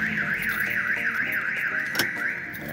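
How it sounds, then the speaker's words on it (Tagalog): A car alarm wails in a steady warbling cycle, close and loud, with a sharp click partway through and nothing else alongside it. "tunog ng tunog yung aking sasakyan"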